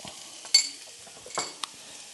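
A utensil stirs tomato paste and barbecue rub in a pan, making a few soft scrapes and clinks over a faint sizzle, quiet and close, with no talking.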